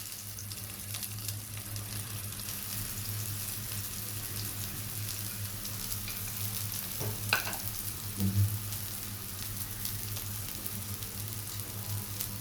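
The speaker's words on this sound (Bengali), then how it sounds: "আমি প্রথমে সয়াবিনগুলোকে একটু লবণ আর হলুদ দিয়ে ভেজে নেব" Soybean chunks fry with salt and turmeric in a pan, giving a continuous even sizzle throughout, with a couple of brief stirring knocks near the end and no talking.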